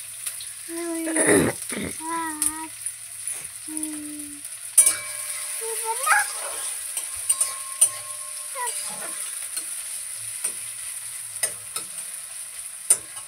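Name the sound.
frying chopped chilli, ginger, garlic and onion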